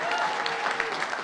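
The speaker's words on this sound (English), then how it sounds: "Give her a round of applause" Brief steady audience applause at an AI innovation challenge finals event, with a faint voice in the crowd noise.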